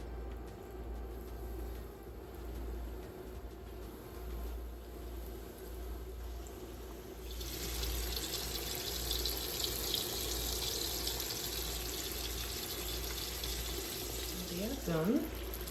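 Salmon pieces fry in hot oil, a steady broadband sizzle that swells louder about halfway through as more fish goes in, continuous and close, with a low hum underneath.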